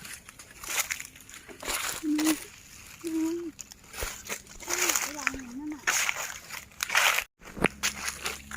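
Freshly picked red mushrooms are swished and splashed in water, with intermittent sloshing and dripping under someone talking, and some outdoor background noise.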